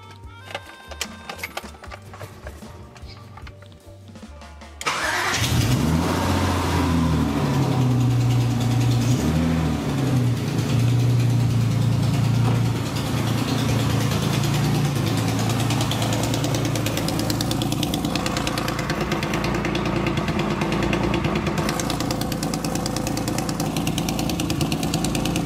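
A BMW E30 M3 fitted with an S54 engine fires up after a quiet stretch and settles into a loud, steady idle that carries on continuously, close by, with no talking.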